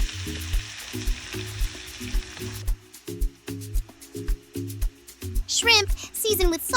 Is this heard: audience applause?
no